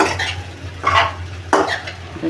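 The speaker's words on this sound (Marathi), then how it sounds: "हां साबुदाणा टाकला आहे सर्व मिक्स करून घेऊ" Sago khichdi being stirred in a pan, with scraping, rustling strokes in a few distinct bursts over a low steady hum, close and fairly loud with no talking.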